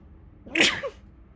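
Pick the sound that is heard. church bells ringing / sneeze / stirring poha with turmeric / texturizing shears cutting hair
sneeze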